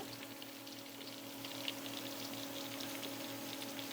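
Meat curry simmering inside a pressure cooker, giving a steady, quiet hiss and soft bubbling patter with a faint constant hum beneath, unchanging throughout with no voices.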